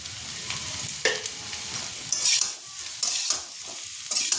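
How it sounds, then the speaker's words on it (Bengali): Taro and plenty of black pepper being stirred and fried in a pan for kochu morich, with a steady close sizzle and repeated scraping stirs of the spatula, no voices. "এবার ভালো করে নেড়ে চেড়ে এটাকে ভাজলেই একদম রেডি হয়ে যাবে কচু মরিচ"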